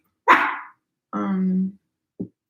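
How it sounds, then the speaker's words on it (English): A dog gives one sharp bark, then a longer whining bark-like yowl and a short final yip, loud and close against silence. "My dog is such a maniac."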